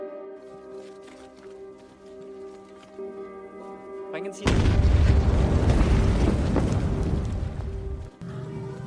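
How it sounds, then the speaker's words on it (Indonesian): A bomb explodes in a Nazi-era war film: a sudden loud blast erupts midway and roars for several seconds before cutting off, with a narrator's voice talking over the scene. "Bom pun meledak."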